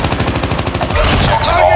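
Gunfire in the mobile shooter Call of Duty Mobile: a loud, close rapid burst of automatic fire, shots pulsing in quick rhythm and then blurring into a dense roar.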